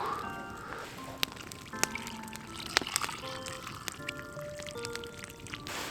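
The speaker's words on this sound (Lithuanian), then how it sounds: "Ir tada užpilam su vandeniu." Water pours into a pot at an outdoor winter campfire in −30°C cold, a steady liquid trickle and splash with a few sharp clinks, fairly close and moderately quiet.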